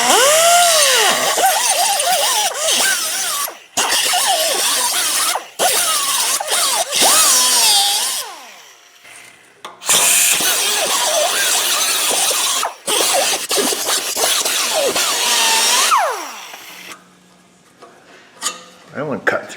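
Power tool cutting through a car exhaust pipe in a series of loud, sustained bursts with brief pauses between them, up close, with a short stretch of quieter clatter between cuts.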